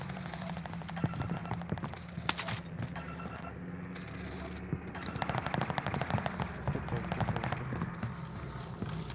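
Rapid bursts of gunfire in a shooter game on the new Caldera map crackle as dense trains of sharp shots, some near and some distant, running beneath ongoing player talk.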